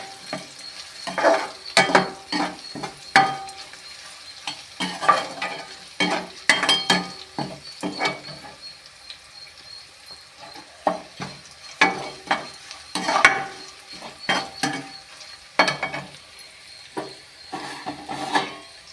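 Garlic, green chillies and curry leaves fry in hot oil for a potato stir-fry, with a steady crackling sizzle broken by repeated scraping stirs of a spatula against the pan, close and fairly loud, with no talking.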